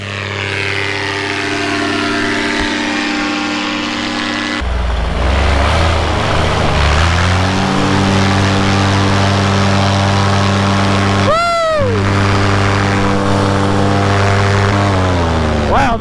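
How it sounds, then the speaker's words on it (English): Small aircraft engine running at full power for takeoff, a loud steady drone with strong harmonics that rises in pitch and holds throughout, with a brief voice partway through. "Full power, take off."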